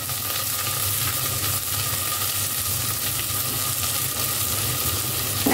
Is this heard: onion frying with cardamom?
yes